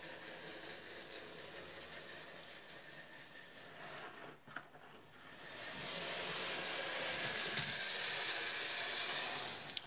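A model railway locomotive rolling along the track, a continuous whirring and rattling running noise from its wheels that grows louder and brighter midway, close and steady, with no talking.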